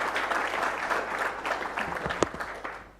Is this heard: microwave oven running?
no